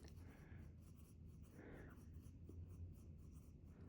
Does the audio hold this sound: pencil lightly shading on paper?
yes